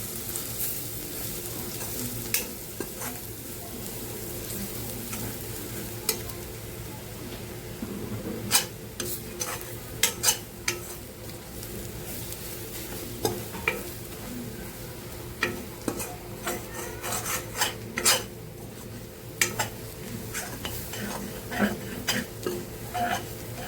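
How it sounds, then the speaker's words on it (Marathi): Gram flour is stirred and roasted in a pan, giving a soft continuous frying sizzle broken by repeated scraping clicks of a spoon against the metal. "बेसन छान गोल्डन होईपर्यंत एकदम छान खमंग भाजायचं आहे बेसन."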